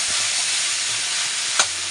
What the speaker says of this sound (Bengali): এটা এখন ভাজা বসিয়েছি